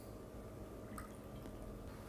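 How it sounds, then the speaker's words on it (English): Star San sanitizer liquid is poured into a homebrew fermentation airlock, giving a few soft drips and a small trickle around the middle, quiet and close, with no talk. "I'm just gonna fill the airlock up with some of that star sand."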